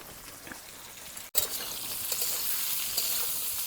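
Chili chicken with capsicum frying in a pan, a steady close sizzle filling the whole stretch, briefly cut by a short dropout before the hiss resumes with faint stirring scrapes.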